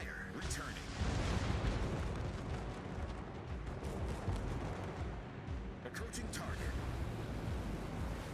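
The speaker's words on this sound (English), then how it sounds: "Look at all those flak bursts that he's dodging because he's slowed down." Flak bursts explode around a Hakuryu carrier's aircraft in World of Warships, a dense, continuous barrage of booms and crackling blasts that fills the whole stretch, with speech-like sounds mixed in.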